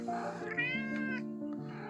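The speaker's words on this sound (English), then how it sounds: "there's the cat" Cat in a workshop where a radio-controlled TaylorCraft model plane is being built, giving one drawn-out, rising and falling meow close by, clear and alone.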